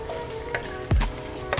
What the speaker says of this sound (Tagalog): What I want to do now is to add our onions.